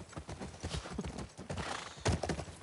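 Horses walking with hooves clip-clopping on a hard surface, a steady close rhythm of hoof falls with a brief whinny near the end, over faint background noise.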